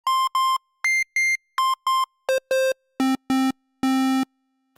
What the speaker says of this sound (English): Now, that has a sine wave.